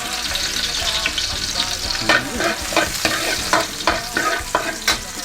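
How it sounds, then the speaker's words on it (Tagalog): Garlic sautéing and being stirred in a pan to start beef shank kare-kare, a steady loud sizzle of frying broken by repeated scraping stirs in an uneven rhythm, with no voices. "gisa lang tayo ng bawang"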